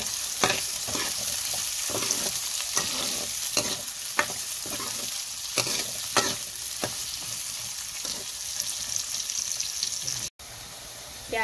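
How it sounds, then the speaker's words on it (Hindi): Onions fry with cumin seeds in a pan, a steady loud sizzle running throughout with regular scraping stir strokes, briefly cutting out near the end. "अब हम इसमें प्याज ऐड कर लेंगे और प्याज को हम गोल्डन ब्राउन कर लेंगे"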